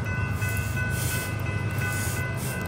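A CSX freight train passes eastbound as a continuous heavy rumble with a steady hissing roar and faint tonal ringing, loud and close for the whole stretch.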